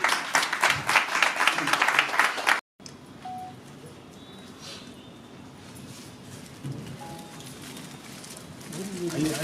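A burst of lively crowd applause at an All India Event Artist Association Trust gathering lasts a couple of seconds, then cuts abruptly to a quieter hall ambience with faint background sounds.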